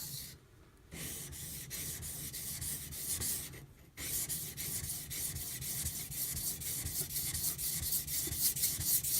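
Aogami Super Karaku Bunka knife being thinned on a whetstone with light hand pressure, a steady close abrasive rubbing and scraping in repeated strokes, broken by two short pauses.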